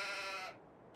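A single short sheep bleat in Farming Simulator 22, heard close and fairly faint, with a wavering, nasal tone that cuts off abruptly, then a short tail of low background noise.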